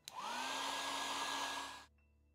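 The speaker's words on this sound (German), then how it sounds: "Das Ganze wird jetzt trocken geföhnt." A hair dryer blows to dry a wet watercolor painting, a loud steady whirring roar with a rising pitch at start-up, held for nearly two seconds before cutting off abruptly.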